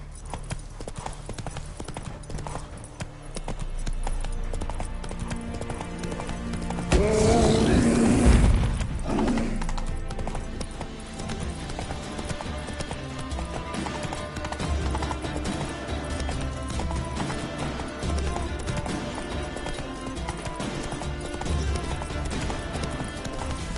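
Hoofbeats of Geralt's horse Roach in The Witcher 3, a steady clip-clop gallop running throughout with a brief louder surge partway through, over background game sound.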